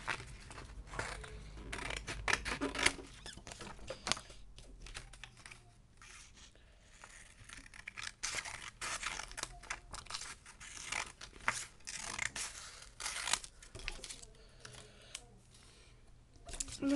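Scissors cut through a paper strip while making a rosette cockade, giving close, dense snipping and rustling that runs throughout, with a few louder crinkles and bits of speech in between.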